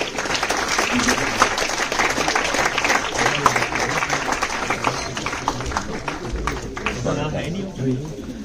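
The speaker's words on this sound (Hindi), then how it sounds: "जोरदार तालियों से अभिनंदन" Loud, continuous applause from a theatre audience at a national winter theatre festival welcoming a special guest, with a crowd murmur underneath that thins out near the end.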